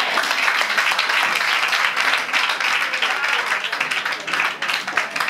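Loud, dense audience applause at a foundation event fills the room, continuous clapping that holds steady and then thins slightly near the end.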